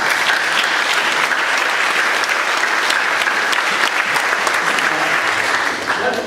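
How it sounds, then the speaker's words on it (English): Sustained audience applause at a Wesley College athletic Hall of Fame ceremony, a dense steady clapping that stays loud and fairly close throughout, with faint crowd voices mixed in and a slight dip near the end. "I want to give him a round of applause."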